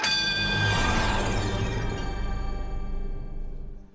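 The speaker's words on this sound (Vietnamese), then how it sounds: "Chúng tôi đã nhận được tiếng chuông" A game show answer bell rings once with a bright metallic strike, then a long shimmering decay that rings on for several seconds, loud and close with no voices over it.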